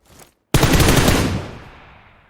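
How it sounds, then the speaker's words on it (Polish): Gunfire in the battle royale video game PUBG Lite: a brief faint sound, a moment of silence, then a loud, sharp close-range burst of automatic shots that decays into a fading echo. "Ktoś do mnie strzela, a ja nie umiem potwierdzić."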